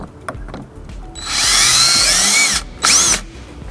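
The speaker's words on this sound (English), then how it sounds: "we're gonna go ahead and get some holes drilled for our hardware" A power drill bores holes into the frame of a 2007 Buick Rendezvous for a wiring bracket: one loud, sustained whine that spins up and holds, a brief pause, then a second short burst, close and with no talk.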